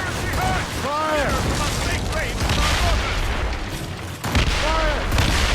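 Cannon fire during a naval battle in Assassin's Creed Rogue, with repeated booming volleys under a dense wash of battle noise and crew shouting throughout.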